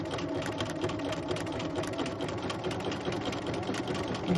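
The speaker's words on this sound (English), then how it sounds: "Okay, so it's going to sew the left side." A sewing machine stitching a sample buttonhole runs steadily throughout, a continuous close mechanical whirring hum with rapid needle chatter and no pauses.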